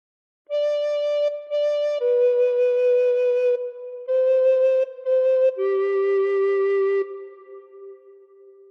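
A recorder plays a short phrase of Silent Night, a slow run of about eight clean, sustained notes with small gaps between some of them, played alone.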